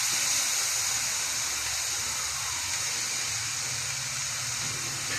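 Pork stirred into fried spices in a pan for a dry Kerala-style pork roast, a steady close sizzling hiss running throughout with no talking.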